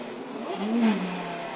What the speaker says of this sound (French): Attention derrière, plus puissante, la BMW du Team Go revient sur la Viper.